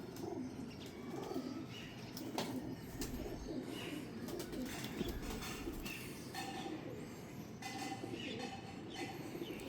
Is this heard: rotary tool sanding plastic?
no